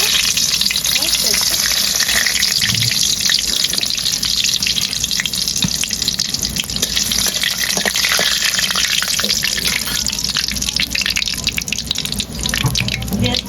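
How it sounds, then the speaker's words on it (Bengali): Dried red chillies frying in hot white oil in a wok, a loud continuous sizzle and crackle filling the whole stretch without pause. "তেল গরম হয়ে গেছে দিয়েছি শুকনো লঙ্কা"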